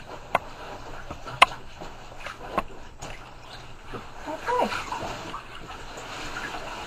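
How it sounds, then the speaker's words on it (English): A grass pad is scrubbed and pushed down in soapy bathtub water, giving sloshing splashes and a few sharp slaps over a low wet background, with a voice talking intermittently. "take your grass pad and really get it, you know, going in the water and rinse it and wash it and push down and get those suds going"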